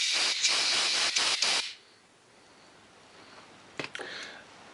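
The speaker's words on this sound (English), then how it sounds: "I'm going to blow air through here." Compressed air blasts through a small hole in an old Husky lawn mower carburetor: a loud, close hiss lasting under two seconds with brief pulses, then a quiet pause and two short, softer puffs.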